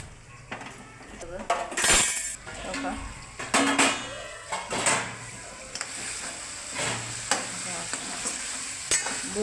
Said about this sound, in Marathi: कोथिंबीर आणि वांगे चांगले भाजले तेलात चांगले फ्राय झालेले आहेत